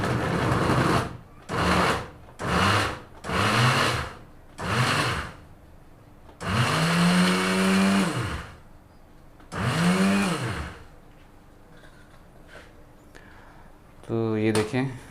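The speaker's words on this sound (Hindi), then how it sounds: "इनको हम ब्लेंड कर देते हैं, चॉप कर देते हैं यानी कि अच्छे से।" An electric chopper grinds bread into crumbs in short, loud pulses, five quick bursts, then two longer whirring runs with a motor pitch that rises and falls, and a brief final spin.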